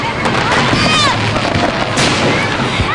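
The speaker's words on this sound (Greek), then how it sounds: "Η όλη εκδήλωση άρχισε με πυροτεχνήματα που φώτισαν τον ουρανό της πόλης" Fireworks at the opening of a carnival parade welcoming Junior Eurovision, a dense crackling barrage with whistling rockets and pops under a crowd and talk.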